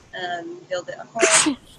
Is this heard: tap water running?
no